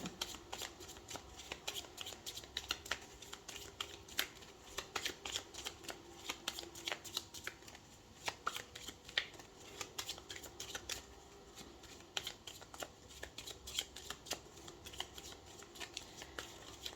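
Tarot cards being shuffled close up, a continuous run of quick riffling flicks and soft slaps, quiet and steady, with no talk.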